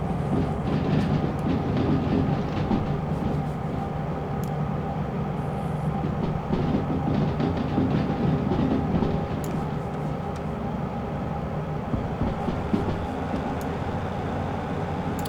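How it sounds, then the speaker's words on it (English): A train rolls along the rails in the railway game Derail Valley, with a steady rumble and faint rhythmic clickety-clack of wheels over joints. It is moderately loud and continuous, with no talk. "Nice little train this. Nice little consist."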